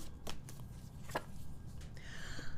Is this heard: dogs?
no